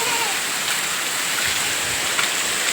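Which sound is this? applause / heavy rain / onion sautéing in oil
heavy rain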